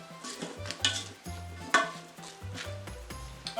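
A spoon stirs homemade chili with chopped red bell pepper in an Instant Pot, giving a run of scraping knocks and clinks against the metal pot in an irregular rhythm, close and fairly quiet, with no talking.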